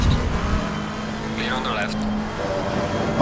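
Race car engine drone passing close alongside in Assetto Corsa Competizione at Imola, a steady loud roar under a commentator's voice talking over it.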